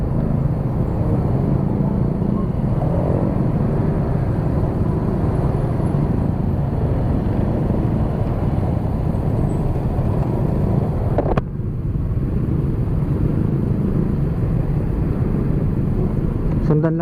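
Road traffic rumbles in a steady, loud wash heard from a motorcycle moving along the road, with continuous engine and wind noise and a brief dip partway through.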